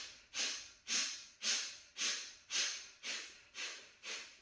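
Kapalabhati yoga breathing: seven forceful, hissing nasal exhalations in an even rhythm, each a short sharp puff, close and alone with no talking.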